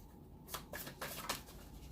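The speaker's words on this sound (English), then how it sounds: "Shuffle them a little more" Soft riffling of tarot cards being shuffled in a few quick bursts, close and quiet, with no voices.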